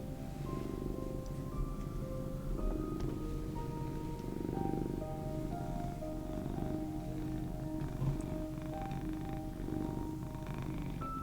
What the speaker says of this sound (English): These loud purrs.